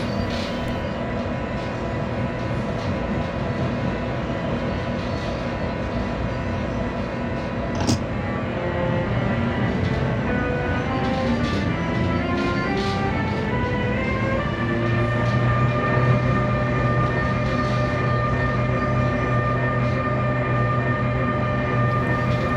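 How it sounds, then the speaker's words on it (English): Simulated Brightline American bullet train locomotive in the Trainz game, straining to haul non-powered coaches up a hill: a steady, loud rumbling drone with rising and shifting motor tones and a brief sharp click midway, no talking. "This locomotive is having a hard time dragging the non-powered coaches up this hill."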